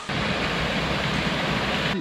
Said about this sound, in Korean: 영문계곡에 폭포가 떨어지고 있습니다